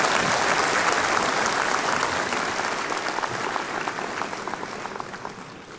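Dense, steady applause from a crowd at a university graduation ceremony fills the whole stretch, staying loud before easing off slightly toward the end.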